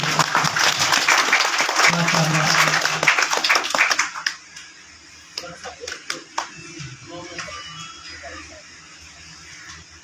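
A crowd applauds loudly for about four seconds at a school annual results ceremony in Mandi Bahauddin, Pakistan, then the clapping thins to scattered claps and taps, with a voice speaking briefly.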